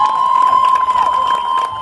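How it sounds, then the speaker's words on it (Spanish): Crowd at a comparsa drum show celebrating its 30th anniversary cheers and claps loudly and continuously, with a steady high whistle-like tone running throughout and no talking. "Los aplausos."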